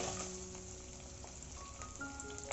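Garlic and dried red chillies frying in hot oil in a pan, giving a soft, steady sizzle and crackle that runs close and quiet, closing on a sudden louder clatter.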